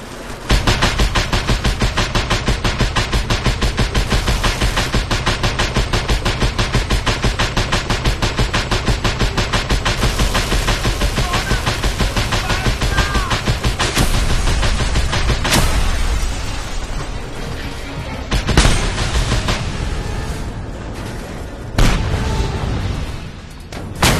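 Rapid, continuous booming cannon fire in the video game Just Cause 2 pounds in a steady rhythm, followed by a few louder, separate blasts, loud and close.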